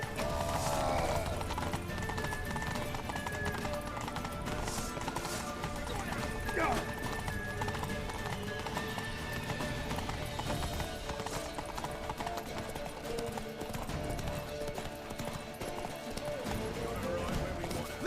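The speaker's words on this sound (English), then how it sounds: "Grab a horse to the temple!" Horses in Witcher 3 gallop with fast rhythmic hoofbeats and neigh during an escape to a temple, loud and continuous, under urgent shouting voices.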